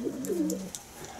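Racing pigeons coo in a loft, low rounded throaty calls rising and falling over about a second, fairly close, with a few faint high clicks above.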